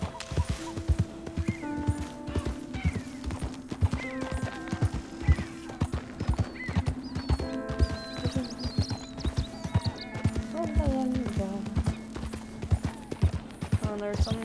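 Horse hooves clip-clop in steady rhythm in Red Dead Redemption 2, close and distinct over a low game hum, with brief tonal game sounds and a voice talking intermittently.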